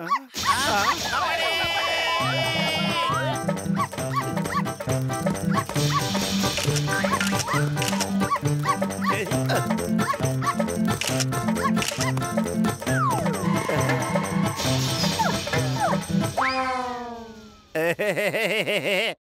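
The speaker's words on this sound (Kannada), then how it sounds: "ಏ ಅರೇಶ್ ಪುಟಾಣಿ, ನಾಯಿ ಮರಿನ ನೋಡಿ ಹೆದರ್ಕೊಂಡು ಹೋಗ್ತಾ ಇದೆಯಲ್ಲ" A cartoon puppy yips and barks repeatedly over busy, loud background music, with a siren-like whine rising near the end.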